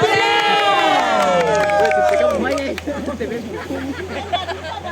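An audience at a family gathering prize ceremony in Ambon cheers loudly with rising shouts, then settles into scattered clapping and chatter, close and lively.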